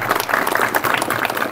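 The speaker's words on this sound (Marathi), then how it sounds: "जोरदार टाळ्या वाजवा त्याच्यासाठी" An audience at a Marathi lecture on Dr. Babasaheb Ambedkar claps loudly, a dense, continuous burst of many hands lasting a second or two, with no one talking over it.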